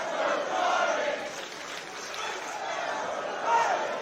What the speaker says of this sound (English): Crowd coming alive for